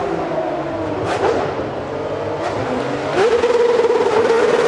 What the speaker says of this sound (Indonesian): Yang ini adalah mobil balap Formula One.